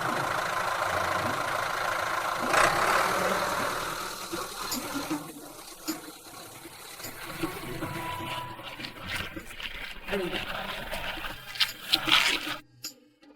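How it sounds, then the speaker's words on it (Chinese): A tractor engine runs with a rough, rumbling idle and uneven knocking, fairly close and steady at first, then growing choppier and more irregular before it cuts off abruptly at the end. "我非但赶来，还带来了耕地神器——拖拉机。"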